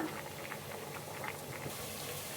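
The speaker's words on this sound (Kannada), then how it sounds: "ಸೊ ಈಗ ನೀರೆಲ್ಲ ಬಗ್ಗಿಸ್ಕೊಬಿಡೋಣ" Water from boiled rice being poured off for a chicken dum biryani, a soft continuous splashing gush of liquid, fairly quiet and steady throughout with no talking.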